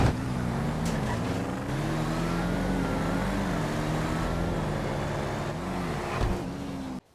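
Drag race car engine in GTA V holding a loud, steady rev with rising and falling pitch, a bouncing limiter-like drone for about seven seconds before cutting off abruptly, with no voices.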